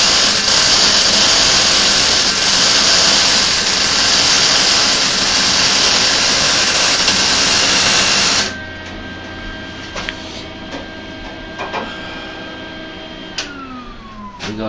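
Welding on a Nissan 300ZX, a loud continuous bacon-like sizzle and crackle at close range that cuts off abruptly after about eight seconds, leaving quieter shop noise, faint clicks and a low hum.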